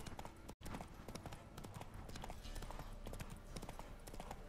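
Horse hooves gallop in a fast, steady clip-clop rhythm in The Witcher 3 video game, fairly close and continuous, with a brief dropout near the start.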